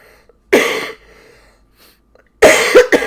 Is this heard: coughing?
yes